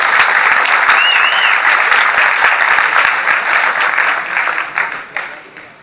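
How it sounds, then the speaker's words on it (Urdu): A crowd applauds loudly at a 10th class farewell party held in a marriage hall. The clapping is dense and sustained, holds steady for several seconds, then thins toward the end with a few last scattered claps. "آپ ان کے لیے ایک بار پھر زوردار تالیاں بجاتا ہے"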